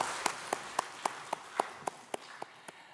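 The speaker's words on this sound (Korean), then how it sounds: "하나님께 영광의 박수를 올려드리겠습니다" A church congregation claps during a Sunday worship service. The sharp, evenly spaced claps sound faint and distant and carry on steadily for about three seconds, with no talking.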